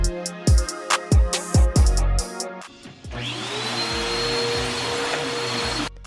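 A vacuum cleaner runs over household floors during a speed clean. Several knocks and bumps come first, then the motor starts with a steady, loud, close whine and roar that holds to the end.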